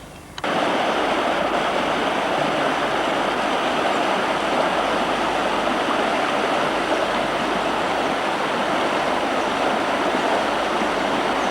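Running water of a forest stream in Warrawee Forest Reserve rushes in a loud, steady, unbroken wash that starts abruptly and continues throughout.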